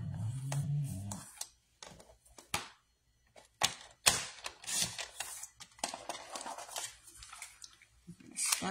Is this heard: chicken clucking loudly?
no